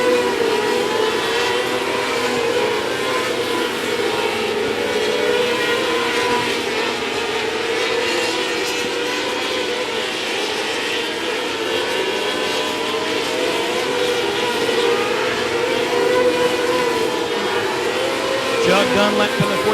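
Race cars roar around the oval at 105 Speedway during a regular race program, a steady loud engine drone from the pack filling the air while an announcer talks over the PA.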